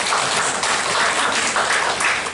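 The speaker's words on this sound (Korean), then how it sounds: "우리 박수 한번 하겠습니다" A church congregation claps together in a steady, dense wash of applause that fills the room for a couple of seconds, with no voices over it.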